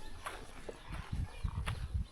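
A horse in a remote mountain village in Laos, soft irregular thuds and snorting sounds close by over low rural background noise, with no talk.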